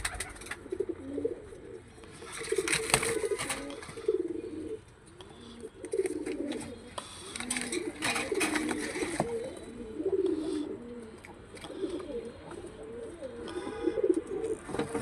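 Domestic pigeons kept in a loft cooing in repeated low throaty bursts, several birds close by, with intermittent flutters and rustling between the calls.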